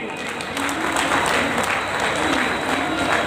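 A crowd at a Delhi division gathering for Babasaheb Ambedkar's 132nd birth anniversary applauds loudly, sustained clapping with some cheering voices mixed in, steady from start to finish.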